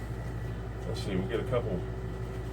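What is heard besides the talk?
air conditioner running in workshop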